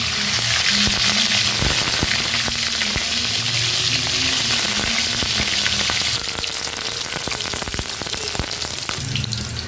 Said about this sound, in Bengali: আর বাকি পনিরটা ফ্রাই করে নেব।